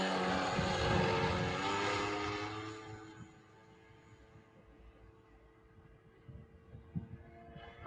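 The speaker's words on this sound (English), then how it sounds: "Nice little rudder turn there, Bill." A propeller airplane makes a rudder turn overhead, its engine drone loud at first and then fading into the distance.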